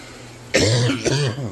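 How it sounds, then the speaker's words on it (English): Two harsh throaty coughs close to the microphone, the first loud and abrupt, the second following a half second later. "Dang, I still can't shake this cough"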